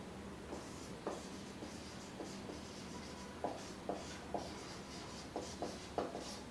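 Marker or chalk writing on a board during a grammar lesson, with short scratchy strokes arriving in irregular bursts, quiet and close, and no talking.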